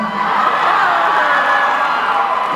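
An audience at a concert in Atlanta cheers and whoops loudly and continuously, a dense crowd roar with no break.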